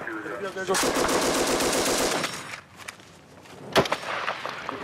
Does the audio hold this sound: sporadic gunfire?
yes